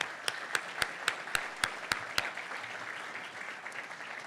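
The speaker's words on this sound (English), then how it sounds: "One more round of applause for them." Sparse, scattered clapping from a crowd, with a few sharp individual claps standing out early before the sound thins into a soft, steady patter.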